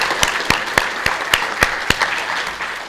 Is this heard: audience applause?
yes